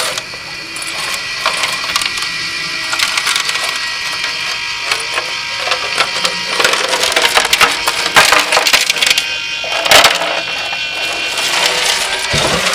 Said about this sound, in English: are the nuts and bolts and all sloshing around in there